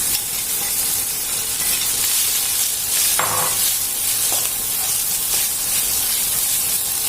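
Rice being stir-fried in hot oil with garlic for kimchi fried rice: a steady, loud sizzle and hiss with occasional scraping of a spatula against the pan.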